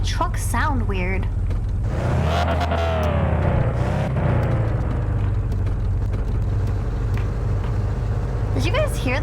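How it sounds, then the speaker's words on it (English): A truck engine in a scary video game drones with a low, steady rumble and an odd, wavering whine that rises and falls over it, while a person talks over the sound. "Why does my truck sound weird?"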